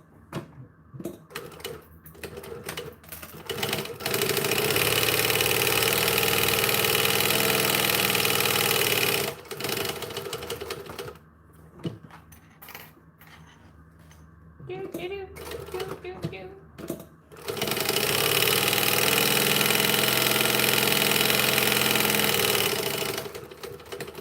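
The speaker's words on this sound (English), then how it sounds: "Slow back stitching to avoid the drama." A sewing machine runs in slow, sustained bursts while back stitching a bag, with a loud, even mechanical whirr in two long stretches separated by quieter pauses with handling noises.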